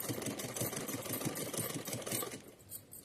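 Sewing machine double-stitching the choli section of a small Laddu Gopal dress, a continuous fast rhythmic whir with rapid needle pulses, fairly faint and steady throughout.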